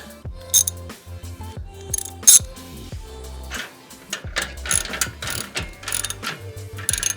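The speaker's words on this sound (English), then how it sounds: "I obviously want to get this front clamp tightened up again." A ratchet clicks in short bursts while tightening the front exhaust clamp on a Harley bagger motorcycle, the close, crisp pawl ticks broken by brief pauses and metallic tool handling.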